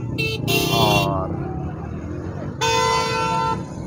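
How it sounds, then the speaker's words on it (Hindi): Busy Sunday car market crowded with traffic, car horns honking in a couple of loud bursts near the start and again later, over a constant rumble of engines and bustle, with a voice speaking briefly. "बहुत ज़्यादा रश है क्योंकि कार मार्केट है ना इतवार बाज़ार"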